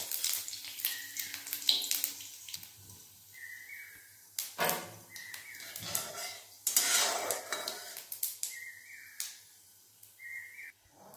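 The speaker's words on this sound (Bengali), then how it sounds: "তেল গরম হয়ে গেছে, শুকনো লঙ্কা আর গোটা জিরে।" Dried red chillies and whole cumin sizzling in hot oil in a kadai, a quiet crackle broken by loud metal scrapes and clanks of stirring, with faint speech now and then.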